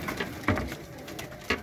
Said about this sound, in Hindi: ले जी व्यूअर ये चेक करें जरा कबूतर